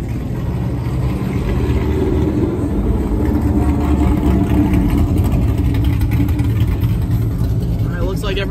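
A twin-turbo street car idles at a gas station with a loud, steady, rumbling engine note that continues throughout. Crowd noise runs underneath.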